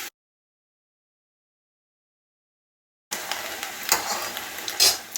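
Falafel sizzling and bubbling in hot oil during deep frying, close and steady, following a stretch of silence.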